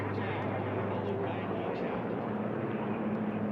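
Racing airplane at the Reno air races, a continuous broadband engine drone held steady and fairly loud throughout, with a race commentator talking over it.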